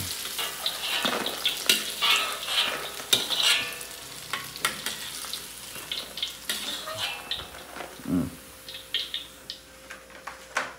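Steady sizzling of tofu frying in hot oil, with clinks and scrapes of a utensil stirring the pan, close by and no talking.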